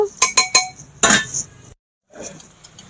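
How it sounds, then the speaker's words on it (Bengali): Mutton pieces go into a pan of fried onions, with three sharp metal clinks of utensils followed by a short, loud burst of sizzling and clatter, then a brief silence and softer cooking noise. "এবার এর মধ্যে আমি ওই মটনগুলোকে সব দিয়ে দেব।"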